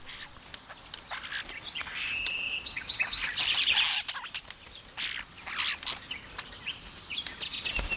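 A flock of European starlings chatters and whistles in a busy, overlapping stream of chirps, squeaks and buzzy calls, fairly close and continuous, with no voices.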